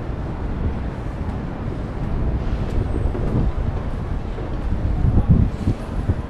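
Wind gusts buffet a wearable camera microphone high up on a climb, a steady close rumbling roar that swells slightly and never drops away, with no clear speech.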